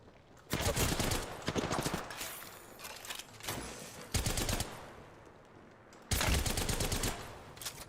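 Bursts of automatic gunfire in the video game Apex Legends, three loud, sustained volleys separated by quieter gaps with ambient game noise between them.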